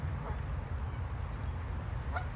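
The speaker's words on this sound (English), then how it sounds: "Papa Goose trying to tell his geese children to get in the water." Geese honk by a bridge in a Calgary park, a parent goose calling to its goslings near the water; a few honks rise over steady low outdoor rumble.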